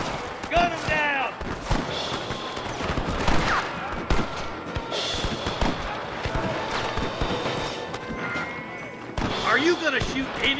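Gunshots during a fight with rustler guards in Red Dead Redemption, scattered sharp reports and thumps mixed into busy game noise, with a voice talking over them.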